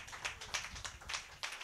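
A church congregation applauds the Lord at a French-language service, with brisk, fairly quiet clapping from a group in steady overlapping bursts and no talking.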